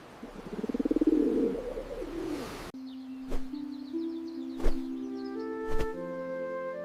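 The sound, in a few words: dove cooing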